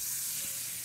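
Bacon frying in a pan in the video game 7 Days to Die gives a brief, faint, steady hiss and crackle, with no voices.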